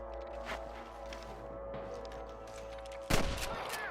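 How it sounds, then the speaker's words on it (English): Gunfire in Red Dead Redemption on Xbox 360 includes a faint distant shot early on and a loud, sharp blast near the end, over a steady musical and ambient game backdrop. "I can hear more gunshots."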